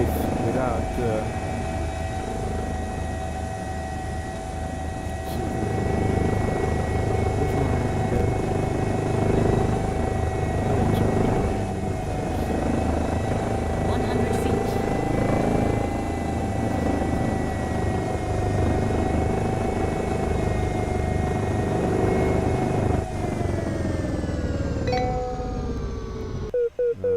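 A continuous simulated helicopter from a flight simulator whirs and drones steadily for nearly half a minute, with a constant engine whine and rotor hum. A voice talks over it at times.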